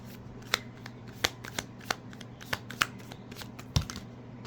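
A tarot deck is shuffled by hand, giving a run of sharp, irregular card snaps and soft riffling flutters at close range, with no talking.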